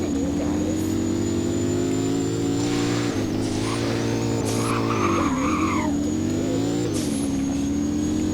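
McLaren race car driving in a racing video game, a loud, steady engine drone with shifting pitch and several bursts of tire skidding and squealing as it slides through turns.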